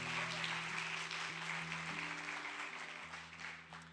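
A church congregation applauds the Lord during a worship service, a soft, fairly distant wash of clapping spread across the room while sustained organ or keyboard chords play underneath.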